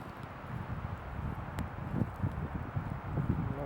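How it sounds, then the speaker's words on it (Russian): Strong wind gusts outdoors at a small campfire site, a low rumbling buffet across the microphone with faint rustling, fairly quiet and without speech. "вот ветер не слабый"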